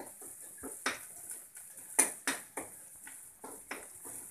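Spoon clinks and scrapes against a pan while garam masala is stirred into palak paneer, with irregular sharp metallic taps and soft scraping, close and moderately loud, and no talking.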